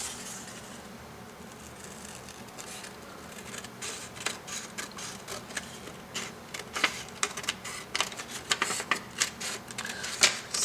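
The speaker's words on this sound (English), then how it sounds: "So I will just cut this up first." Paper being cut for an origami bow, a quick series of crisp, close snips and rustles that grow denser and louder toward the end, with no voices.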